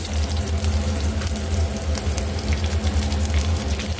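Chopped okra sizzles in hot oil with black cumin and green chili, a continuous close crackling hiss over a low rumbling hum, steady and unbroken.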